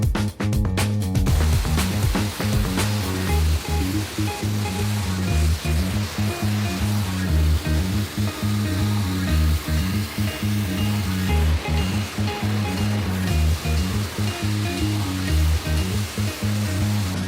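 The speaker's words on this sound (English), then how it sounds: "then he crowned it with a power wash" Steady, loud pressure-washer spray hissing continuously against the body of an old 1939 DKW car, a dense rushing roar with no pauses and a faint machine hum underneath.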